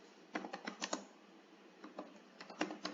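Typing on a computer keyboard while writing code, with quick clusters of close, crisp key clicks separated by short pauses.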